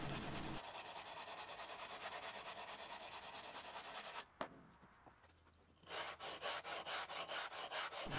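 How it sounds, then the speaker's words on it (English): Steady rasping strokes of hand sanding on a custom guitar body, sanding wood flush, run continuously, pause briefly, then resume as quicker rhythmic back-and-forth passes. "And of course sanding the rest of them flush."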